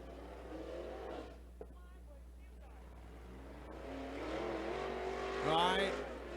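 A dirt super late model race car on a hot lap at a dirt track, its engine faint and distant at first, then swelling louder as it passes, with a commentator talking throughout.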